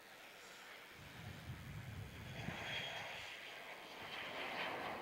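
A Qantas airliner takes off from runway 16 at Melbourne Airport, its engines a faint, distant broadband roar that swells gradually and holds, with no talk.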